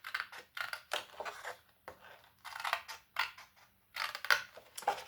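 Paper being cut along a marking line for a Christmas clock craft, with bursts of crisp snipping and rustling strokes repeating in uneven runs, close and fairly clear, no talking.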